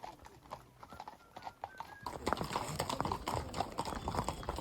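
Horse hooves clip-clop in a steady walking rhythm along a shaded trail through old olive groves in Calabria, close and clear, growing louder and denser partway through.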